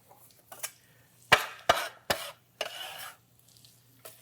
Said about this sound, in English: So, in my pot that I got right here, friends, I am going to put some onion.